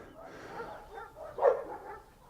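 Rocky, a dog in a look-and-chase training game, gives a few short, close barks and yips, a little muffled, over soft background noise.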